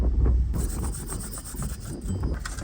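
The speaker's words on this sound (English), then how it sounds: "We're just going to do a little bit of scrubbing and clean off our mount brackets." Brake mount brackets from the rear brakes of a 1996 Toyota Land Cruiser FZJ are scrubbed clean with a brush, giving a steady, close, gritty rubbing and rasping with quick back-and-forth strokes and no talk.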